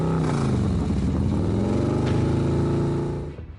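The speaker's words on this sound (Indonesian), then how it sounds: "Suara knalpot apa dia nggak bising ya Ustaz ya?" Loud motorcycle exhaust noise on a road, a close, rough revving rumble that holds steady for a few seconds before cutting away.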